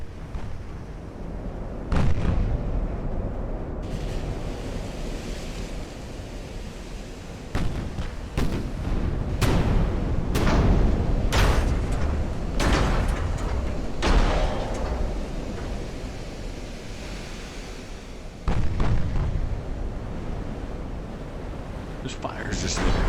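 Heavy naval guns firing HE shells in the warship game Ultimate Admiral: Dreadnoughts, a loud barrage of booming blasts that comes in clusters, with one isolated shot early, a dense run of salvos in the middle, and another heavy burst near the end.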